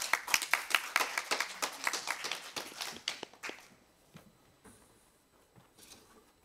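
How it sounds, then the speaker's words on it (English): Brisk applause from a forum audience at the 2021 Jeju Forum session, many close claps that thin out and fade after about three seconds, leaving a few scattered claps in near silence. "Please welcome him with a big round of applause"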